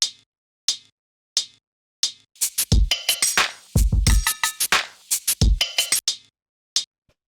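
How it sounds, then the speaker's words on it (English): A short, crisp hi-hat sample ticks in a sparse pattern within a textured beat, layered with clicky percussion hits and brief bursts of heavier low thumps. "the first sound I have in here is this little hi-hat which sounds like this"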